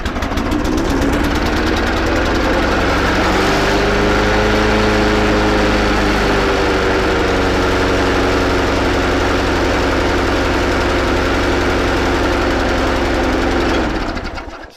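A MacAllister HP46 petrol lawn mower engine runs steadily and loud for the whole stretch after a repair, holding a constant idle-like drone with a slight pitch shift partway through before cutting off at the end.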